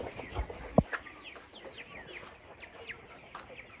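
Farm chickens squabble at a distance with soft, scattered clucks and chirps, marked by one sharp thump early on.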